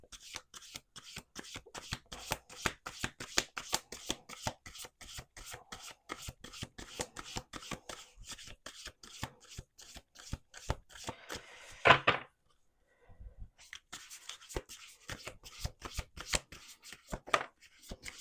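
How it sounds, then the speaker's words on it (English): Rapid riffling of a card deck, close up, a dense run of crisp flicks, a brief pause, then another round of shuffling. "Let's shuffle the deck 2 more times."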